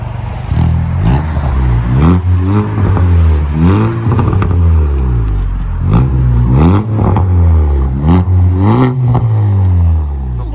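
A 2019 Chevy Malibu with a 1.5L four-cylinder turbo engine and muffler-delete exhaust revs repeatedly, its loud droning note rising and falling in several quick swells, close by and dominating, with occasional crackle and no clear talk.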